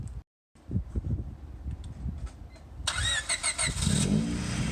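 A project car's engine cranks briefly, then catches and fires up, settling into a loud, steady idle with a high whine close by.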